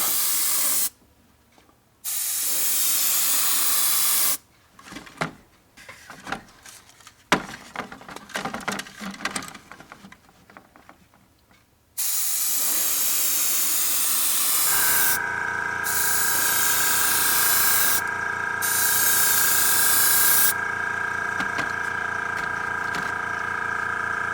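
Airbrush spray hiss from a paint sprayer driven by an air compressor at about 25 psi, used to weather the chassis of a model ferry van; loud steady bursts start and stop, ending in one long continuous hiss with a tonal whine beneath.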